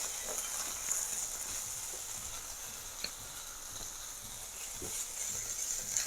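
Chopped medium-sized bell pepper sizzling in a pan for a pizza burger, a steady hiss of frying broken by a few soft ticks and pops.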